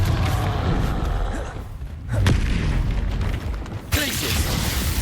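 Confringo explosive spell blasts from Hogwarts Legacy: loud booming bursts with heavy low rumble, a sharp crack near the middle and another strong blast toward the end, amid continuous game noise.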